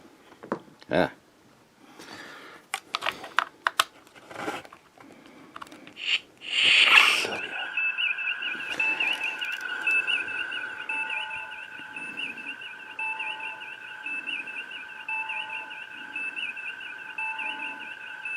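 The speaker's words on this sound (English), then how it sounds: "it has the sound effects of the bridge and the turbo lift there for a second or two" Electronic chirps and beeps in quick bursts from a Hallmark Star Trek Enterprise tree topper playing bridge and turbolift effects, then a steady tonal hum with pulsing, whistling tones, with a voice briefly talking over it.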